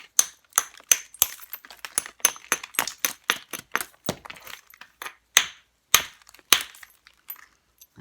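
Antler tine striking and pressure-trimming a quartz Osceola point preform, a rapid irregular series of sharp close clicks and snaps, some louder cracks among lighter taps, with no talking.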